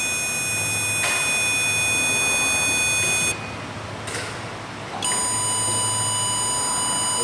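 Steady electronic beeping from a digital multimeter during no-start diagnosis of a car's computer circuit, a continuous high tone with a couple of short breaks, fairly loud and close with no talk.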